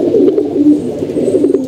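Pigeons coo in a close, continuous run of low, throaty warbling notes, loud and unbroken across the short stretch, with no talk.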